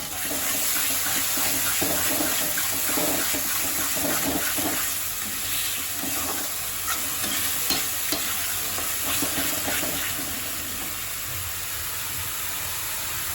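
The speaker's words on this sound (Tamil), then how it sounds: "அது தக்காளி பழம் சேர்ந்து வறுக்கணும்" Ground tomato sizzles in a hot pan for a village-style okra stir-fry, making a dense, even hiss and bubbling with light stirring scrapes, steady and close with no speech.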